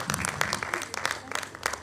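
Audience applause at a Punjabi book release ceremony, a short burst of many hands clapping in a hall, fairly dense and steady with some crowd noise underneath.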